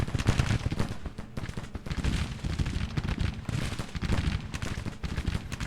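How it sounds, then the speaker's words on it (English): Dense, continuous musket gunfire crackles from all sides in a Grand Tactician Civil War battle, a steady rattling barrage with no pauses. "Getting shot at from all sides."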